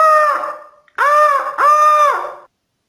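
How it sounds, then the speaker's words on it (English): A loud, close bird call resembling a rooster sounds in three strong, drawn-out bursts, each with a bent, wavering tone, the last two following quickly after a brief pause. "Is that a fucking bird?"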